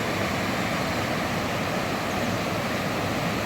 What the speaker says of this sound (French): La nouvelle cascade d'Issoire.